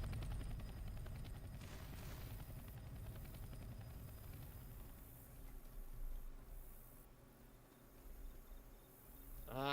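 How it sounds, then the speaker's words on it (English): A helicopter flies in the Left 4 Dead video game, its steady rotor chop and engine whine droning loud and continuous for nearly ten seconds, with a faint buzzing hiss layered underneath. "And there's a chopper."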